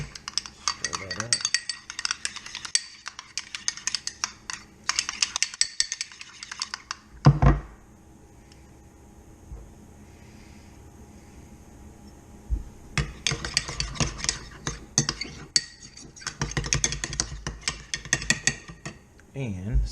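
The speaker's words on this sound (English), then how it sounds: "Stir that up." A spoon stirs hot sauce and yellow mustard in a bowl, with bursts of quick clicking and scraping strokes separated by quiet pauses and one sharper knock.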